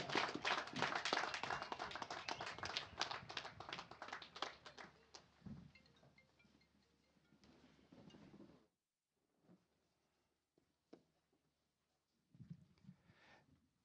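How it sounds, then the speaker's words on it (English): Applause and clapping from a crowd at a groundbreaking ceremony for the Bikita Minerals spodumene project in Zimbabwe, loud and dense for about eight seconds, then fading to a few scattered claps and faint sounds. "Big round of applause, big round of applause."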